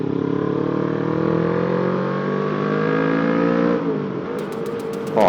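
Suzuki Inazuma 250 motorcycle engine running loud and close, a steady rumbling drone that holds through most of the stretch, then drops in pitch and revs up again sharply at the very end; no talking.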